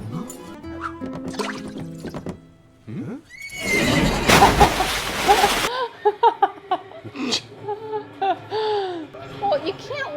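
An animated horse in The Road to El Dorado neighs and whinnies repeatedly. A burst of heavy splashing in water comes midway, with cartoon voices and other vocal sounds around it.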